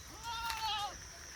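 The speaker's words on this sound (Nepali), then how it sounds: "ल यस्तै चराउँदैछ है हाम्रो त यार घरको बाख्राहरू हेर्नु" A single goat bleats once, a short wavering call heard at moderate distance in a quiet rural setting while the herd grazes; no talking.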